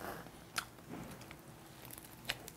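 Crispy bread with pumpkin and cheese being bitten, heard as a few faint, sharp crunches spread across a couple of seconds over quiet background noise, with no talk.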